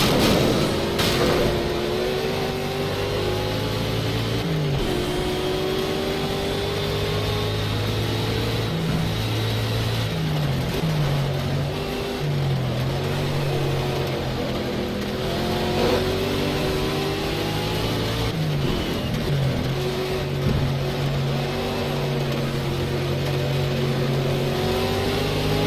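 A Ford Mustang race car engine in a racing video game drones steadily throughout, with rising and falling engine pitch as it accelerates and shifts, continuous and moderately loud with no speech.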